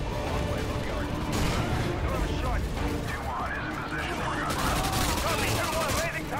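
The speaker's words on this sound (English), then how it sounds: "Did they really just jump off the roof because I flashbanged them?" A flashbang grenade goes off in Modern Warfare amid heavy gunfire, sharp bursts and a loud blast cutting through a dense firefight, with a voice talking over the action.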